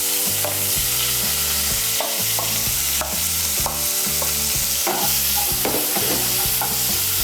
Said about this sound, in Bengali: পেঁয়াজ কুচিটাকে তেলের সঙ্গে মিশিয়ে নিয়ে পেঁয়াজ কুচিটাকে লাল করে ভেজে নেব।